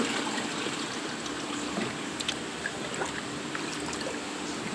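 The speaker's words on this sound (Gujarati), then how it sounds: "હવે ટબે ટબે કુલરમાં પાણી નાખી દે" Steady splashing of water being poured from a tub into an air cooler, a continuous gushing trickle with small sloshes, close by and fairly even throughout.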